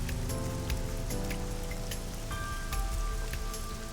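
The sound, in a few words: rain in the video game AI: The Somnium Files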